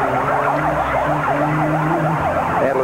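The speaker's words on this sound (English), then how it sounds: "Add a little authenticity on all these sirens and flashers going." Wailing emergency vehicle sirens sweep up and down continuously during a parade of cars around a baseball stadium field, loud and steady over engine rumble, with no talking.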